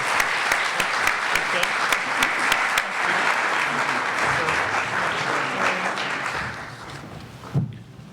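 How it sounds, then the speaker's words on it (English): Conference audience applauding the panelists at a space policy forum, a loud run of clapping with a few sharp, distinct claps up front that thins out and fades toward the end, ending with a soft thump. "A round of applause for our panelists here."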